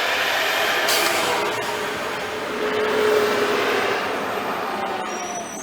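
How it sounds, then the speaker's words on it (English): A large diesel garbage truck rumbles past outside, indoors but loud, with a steady heavy roar and a brief high brake squeal midway. "That's the garbage truck again."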